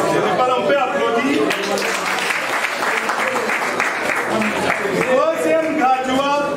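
A crowd claps steadily at a university student ceremony in Mwene Ditu, loud, continuous applause with voices audible through it.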